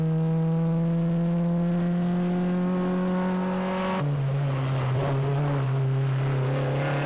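A rally car in an auto sprint stage holds a steady high engine drone, then drops pitch abruptly as it shifts and pulls away with rougher, grittier engine noise.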